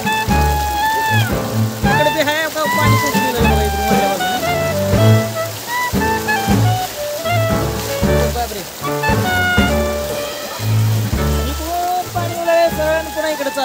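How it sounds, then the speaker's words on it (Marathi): Heavy evening rain pours onto a flooded street with water rushing past, a constant loud wash, with people talking and calling out over it throughout. "हे जोरदार पाऊस पडल्यामुळं सगळं वाहून चालले"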